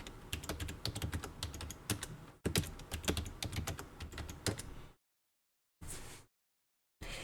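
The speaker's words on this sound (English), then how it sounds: "Go ahead and enter a password for the user Ekos." Someone types a password on a computer keyboard, a close run of quick, crisp key clicks with uneven rhythm that stops abruptly, then two short bursts of sound after near-silent gaps.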